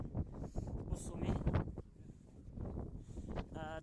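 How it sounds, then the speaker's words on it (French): Strong wind gusts near 130 km/h roar across a mountain summit in Languedoc, buffeting the microphone with low rumbling noise while a person talks over it. "les rafales de vent avoisinent les 130 km/h actuellement là au sommet"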